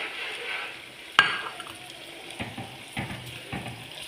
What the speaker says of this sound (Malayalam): ചെറിയ ഉള്ളി മൂപ്പിക്കാം. എൻ്റെ അടുത്ത് സ്റ്റാൻഡില്ല. എന്നിട്ട് നമുക്ക് കറിവേപ്പിലയും മുളകും ഇട്ട്